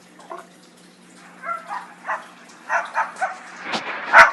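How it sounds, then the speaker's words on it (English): A bird in a video game gives a short series of dog-like barks and yips, faint at first and then louder, spaced irregularly with no talk. "That bird's like a dog."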